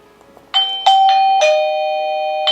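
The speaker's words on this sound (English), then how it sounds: "it does have a chime. So we have to press on it 1 time." A eufy Security S330 video smart lock's doorbell sounds a bright electronic chime, a sequence of clear ringing tones struck one after another and left to ring out, loud and close with no talking.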